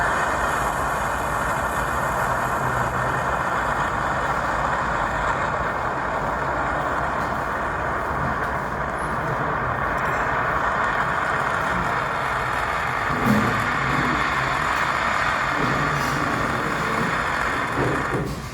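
Nuri, the Korean space launch vehicle, roars on its third launch: a dense, steady, broadband rumble that holds at full strength the whole way through, with no speech over it.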